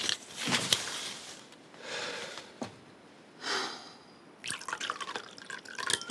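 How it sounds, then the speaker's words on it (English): A drink poured into a glass indoors, with several separate bursts of splashing liquid broken by short pauses and a faint clink, close and moderately loud with no talking. "Let me pour you a drink."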